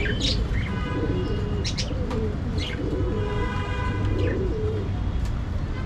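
Pigeons coo in low, soft repeated calls while sharper chirps from other birds cut in above, a steady busy background throughout.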